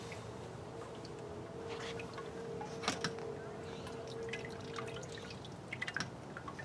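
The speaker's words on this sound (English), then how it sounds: "So I'm just gonna catch the last bit of liquid here." Vienna lager beer drains slowly during brewing, with soft intermittent drips and small splashes of liquid over a low steady hum. The sound is quiet and close, with a few sharper drops near the end.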